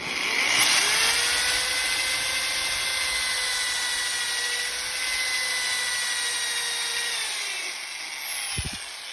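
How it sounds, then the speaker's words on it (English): A drill bit bores a hole at a punch mark, the motor whining steadily and loudly at a constant pitch for several seconds before winding down near the end. "In order for me to drill here,"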